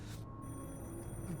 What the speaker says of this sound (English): A phone rings elsewhere.